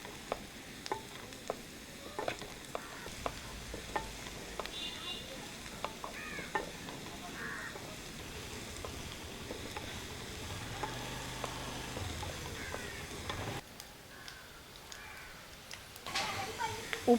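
Bottle gourd stir-frying in a pan for thoran, with a soft steady sizzle and occasional scraping stirs throughout, moderately quiet, with faint voices and birds in the background.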